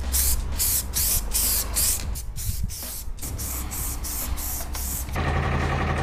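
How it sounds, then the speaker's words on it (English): Primer sprays from a can onto a large 3D cube at Condor Werke Westkirchen in a string of short, close hissing bursts, followed by a longer continuous spray. "For a nice covering of the spray paint, the gaps must be closed with primer."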